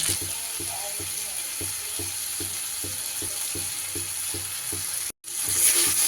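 Vegetables and green peas fry in a pan with turmeric and Kashmiri chili powder, giving a steady sizzle under rhythmic scraping from stirring, followed by a brief cut near the end.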